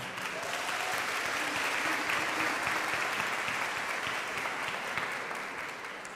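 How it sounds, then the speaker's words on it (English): A large crowd at a high school commencement breaks into loud, continuous applause, a thick even roar of clapping that holds steady for several seconds and eases off slightly toward the end. "you deserve a round of applause"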